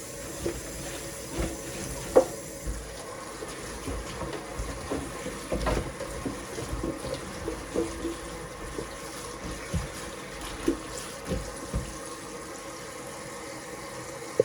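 Callaloo greens are washed under a running tap, with a steady hiss of flowing water and irregular splashes and soft knocks as the leaves are handled in the sink.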